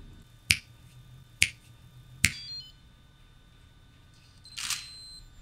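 Three crisp, evenly spaced finger snaps set off a Nikon ClapSnap remote, and after a short pause the camera shutter fires once. There is little else in the background.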